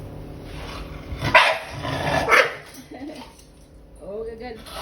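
An American bully dog barks and growls at a chicken in short, loud bursts, with someone talking over it and faint clinks of dishes.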